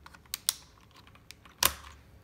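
A keycap being popped off a computer keyboard: a few sharp, close plastic clicks and snaps, with one louder pop near the end and quiet fiddling between.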